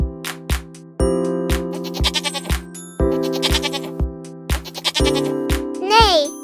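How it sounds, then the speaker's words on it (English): Sheep bleating in short repeated calls over a steady rhythmic backing with bell-like dings, a rising whistle-like tone near the end, no talk. "It's a sheep."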